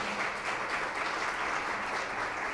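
A church congregation bursts into strong, sustained applause, a dense even roar of clapping that holds steady for a few seconds without voices.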